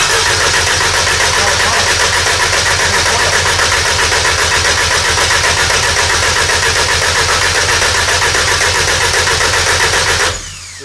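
Audi drag race car with a big tire, its engine cranking loudly and steadily in a fast, rhythmic churn for about ten seconds before cutting off abruptly, without firing.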